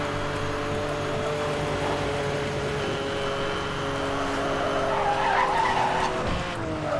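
A racing car, an Aston Martin in Need for Speed: Hot Pursuit (2010), brakes hard into a long, loud tire skid over a steady engine drone, with the squeal shifting near the end.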